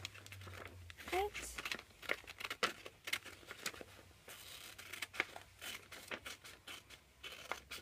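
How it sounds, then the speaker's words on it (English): Scissors cut through green paper close by, with repeated crisp snips and paper crinkling under steady talking. "So you take your scissors, then you cut"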